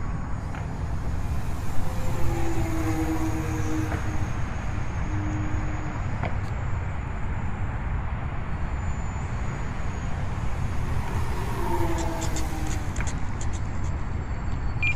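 A T-28 Trojan RC model airplane, 1.1 m span, flies passes on its maiden flight, its faint buzzing motor rising and fading over a constant outdoor wind hiss, two swells heard within the stretch.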